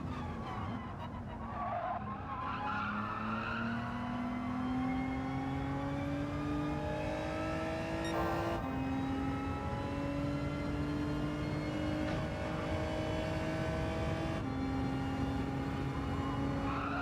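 Race car engine in Gran Turismo 7 wails through rising revs with abrupt gear shifts, while tires skid as the car slides through corners; loud and continuous, with no talking.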